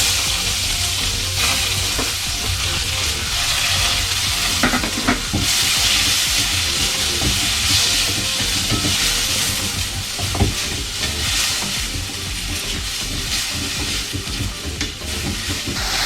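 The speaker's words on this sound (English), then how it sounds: "We have to saute this till getting crispy and brown." Chopped onion and cumin seeds sauté in a hot pan, a steady loud sizzle with frequent scraping stirs running throughout, no voices.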